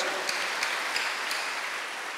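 A church congregation applauds during a worship service, a steady broadband patter of many hands at moderate volume with a few sharper accents and no speech over it.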